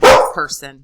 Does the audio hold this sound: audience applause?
no